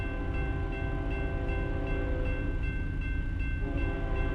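Train rumbling past in American Truck Simulator, a steady loud roar with sustained horn tones held throughout, no speech.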